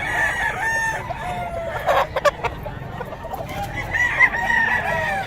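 Sweater-breed gamefowl roosters crow and cluck nearby, with drawn-out crows at the start and end and a short burst of clucking and wing-flapping noise in between, loud and close.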